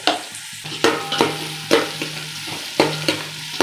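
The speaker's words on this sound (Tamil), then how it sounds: "வெங்காயம் ஒரு அஞ்சு நிமிஷம் வதங்கினா போதும்" Onions sizzle steadily in ghee in a hot pan while a utensil scrapes and stirs at regular intervals, close up and without speech.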